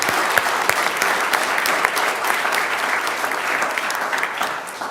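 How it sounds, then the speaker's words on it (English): A crowd at a school board of education meeting gives loud, dense applause, with sustained rapid clapping from many people throughout and no speech over it. "So just a quick round of applause for everybody that's here."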